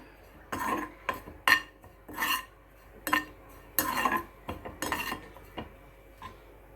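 Cashews and dried coconut dry roasted in a pan, a series of sharp metallic clinks and scrapes of a spoon against the pan in irregular bursts, close up in a quiet setting.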